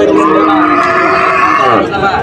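Loud, drawn-out mooing of native cattle fills the clip, one long low call with overlapping lowing and faint background bustle of a busy livestock market.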